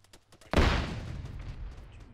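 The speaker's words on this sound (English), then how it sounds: "We're saturating the tip of that peninsula with mortar fire right now." A single heavy mortar blast from ArmA 3 combat lands with a sharp, loud onset, then a long rumbling boom trails off over a couple of seconds, preceded by a few faint muffled thumps.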